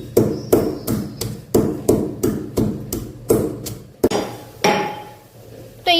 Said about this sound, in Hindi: जितनी देर हम अदरक और लहसुन और काली मिर्च को कूट रहे थे